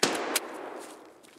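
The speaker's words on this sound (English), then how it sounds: "Yep, there's gunfire." Gunfire in the Escape From Tarkov video game: two sharp shots, the first at the start and a second a third of a second later, both fairly distant, each trailing off into a long reverberant decay without any talk.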